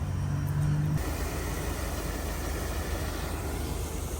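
A Dodge Diplomat sits on a trailer with its engine running, a loud steady broadband rumble after a brief hum at the start, with no voices.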